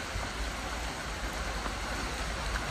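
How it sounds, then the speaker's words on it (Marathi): Steady rain falls at Karnala Fort, a dense, even hiss of drops that fills the whole moment without letup and with no voices over it. "आणि पाऊस तर चालूच आहे"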